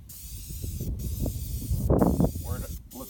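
Spray paint hisses steadily as a second coat goes onto a junkyard LS engine, with soft rustling under it and a voice speaking over the spraying.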